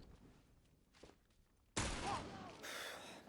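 A sudden loud gunshot blast from The Last of Us multiplayer video game, preceded by quiet footsteps and faint movement, then a sustained noisy burst trailing off.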